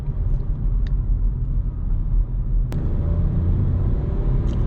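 A 2020 Volkswagen Polo 1.0 TSI Comfortline with a three-cylinder engine drives on a damp road, giving a steady low engine rumble and road noise heard from inside the car, with one sharp click midway.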